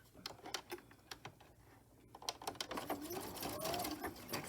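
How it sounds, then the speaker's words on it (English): A Brother Simplicity sewing machine runs in short, uneven stitching bursts at close range, some light clicks and handling noises between, then a longer steadier run stitching ribbon onto a herb sachet. "I have a Brother Simplicity machine."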